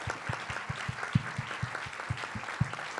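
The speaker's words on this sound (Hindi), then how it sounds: "तो इन सब के लिए एक बार जोरदार तालियां।" An audience claps at a women's success-story talk, giving steady, moderately loud applause with many overlapping claps throughout.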